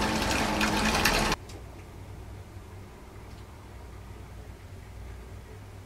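Bathtub in a Yokohama city hotel room filling from the tap, a loud steady rush of running water for just over a second before it cuts off, leaving only a quiet room hum.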